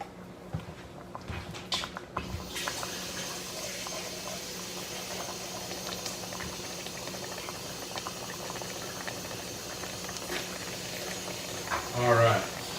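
Water runs from a kitchen tap in a steady, close rushing hiss that lasts the whole stretch, with a brief louder clatter near the end.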